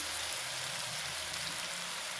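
Oil sizzling and crackling steadily in a pan for egg fried rice, a continuous hiss with faint low kitchen rumble, no talk.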